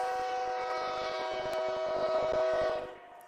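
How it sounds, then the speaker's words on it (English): A train rolls past near a ballpark during a baseball game, a loud steady rumble with sustained horn-like tones that holds for about three seconds, then fades. "Another train."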